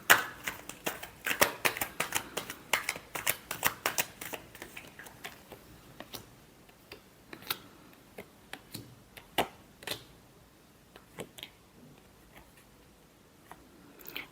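Tarot cards being shuffled by hand, a run of crisp riffling snaps and flicks, dense and quick at first, then thinning to scattered separate taps toward the end, close and fairly quiet with no voices.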